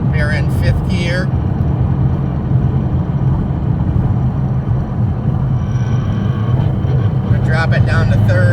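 A car cruises in fifth gear while being checked for P0300 misfires, its engine a steady low droning rumble with road noise heard from inside the cabin, and a person talking briefly near the start and end.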